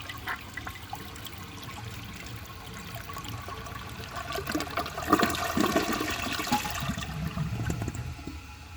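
A 1976 American Standard Cadet toilet flushes, a rushing, gurgling swirl of water that builds midway and stays strong before easing slightly, heard close with no speech.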